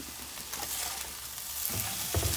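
Scrambled eggs with salmon sizzle steadily in a frying pan with a soft crackling hiss, and faint scraping and stirring come in toward the end.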